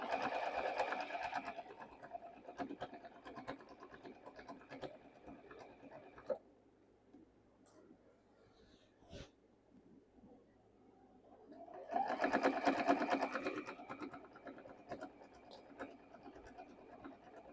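A sewing machine runs in bursts of rapid stitching as it sews a thick, multi-layered overalls seam with back stitching at the start and end, slowing over the bulky center, with a quiet pause between bursts.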